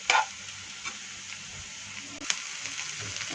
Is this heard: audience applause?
no